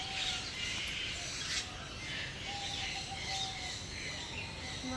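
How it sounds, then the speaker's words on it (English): Chirps and calls from birds at Jurong Bird Park, several thin whistles over a steady wash of insect-like buzzing and crowd ambience, fairly faint and continuous throughout. "Birds."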